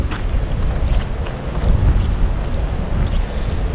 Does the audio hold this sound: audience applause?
no